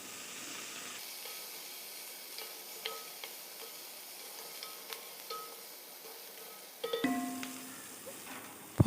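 Chopped onion and curry leaves dropped into hot oil for a chicken curry, giving a quiet, continuous sizzle with small crackles and a louder burst of frying near the end, with no one speaking.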